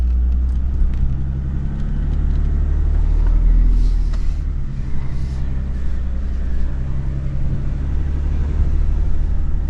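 A 2024 Lexus GX 550 Overtrail crawling off-road through desert terrain, a loud steady low engine and drivetrain rumble heard from inside the cabin, with faint rattles over it.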